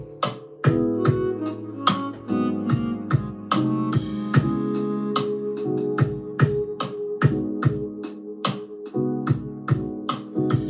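An instrument track in Ableton Live plays a steady run of bright plucked notes over sustained lower tones, each attack sharp and the notes lingering into one another, loud and clear with no voices.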